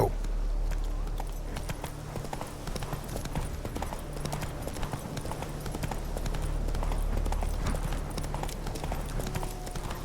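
Roach, Geralt's horse in The Witcher 3: Wild Hunt, gallops in a quick continuous stream of hoofbeats, close and steady, with a faint voice now and then underneath.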